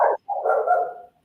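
A pet dog indoors barks twice up close: a quick sharp yap, then a longer, drawn-out bark that trails off into a whine.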